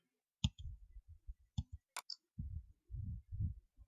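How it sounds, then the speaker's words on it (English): Computer mouse clicks on a Windows PC, a few sharp isolated taps with close, quiet double clicks among them, heard up close alongside low muffled thumps. "Double click on the drive. We click on D drive."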